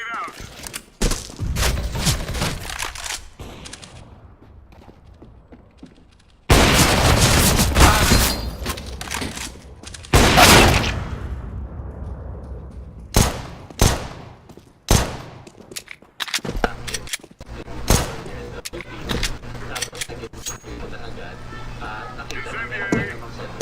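Counter-Strike: Global Offensive gunfire, with bursts of rapid shots, heavy booming blasts and a grenade detonation, loud and chaotic over steady game ambience, while voices speak between the volleys.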